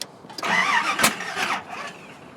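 A Chevrolet ZZ6 crate engine cranks and tries to fire during an engine swap, a loud, rough burst of starter churn and sputtering combustion lasting about a second and a half, close by with no talk over it.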